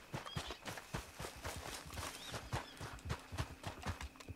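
A horse trotting in on a summons in Red Dead Online, steady clip-clop hoofbeats approaching with a faint game ambience, fairly quiet and unaccompanied.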